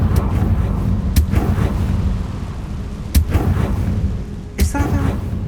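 Magical Confringo blast spells cast in Hogwarts Legacy, several sharp booming bursts standing out over a steady rumbling game background.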